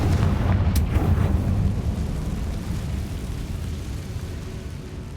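A Confringo blast spell goes off in the Hogwarts Legacy video game, a loud burst with a booming, rumbling explosion that decays into a sustained low roar across the whole stretch.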